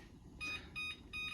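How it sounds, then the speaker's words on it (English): A kitchen timer set for chocolate cupcakes beeps three times in a regular, evenly spaced rhythm, faint and thin against quiet kitchen room noise. "We're gonna set the timer."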